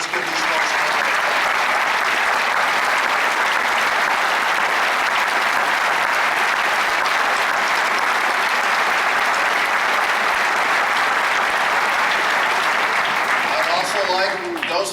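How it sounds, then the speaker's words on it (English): Sustained loud applause from a large crowd at a high school commencement, honoring veterans and first responders, dense and unbroken from start to finish. "let's give these folks a round of applause"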